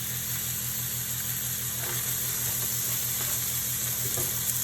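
Bell pepper and cabbage sizzling in a hot pan for chow mein, a steady hiss with a low rhythmic hum underneath and occasional soft scraping clicks.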